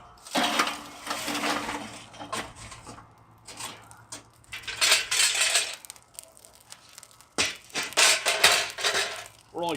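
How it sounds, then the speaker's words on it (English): Charcoal coals are raked and spread across one side of a barbecue grill grate, giving close scraping, crunching and clinking metallic bursts that come in uneven waves separated by short quiet gaps. "I'm going to spread the coals now"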